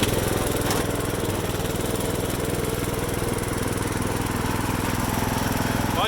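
A farm tractor engine runs close by with a steady, loud, throbbing chug that stays even throughout, with no talking.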